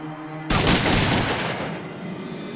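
A sudden loud burst of gunfire erupts in the game Fallout 2, a dense rattling volley of shots that starts abruptly and rings out briefly, with no talk.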